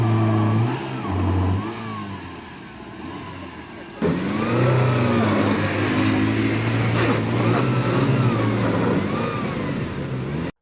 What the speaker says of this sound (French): seuls les véhicules surélevés et les camions notamment peuvent s'aventurer pour dompter ce mar d'eau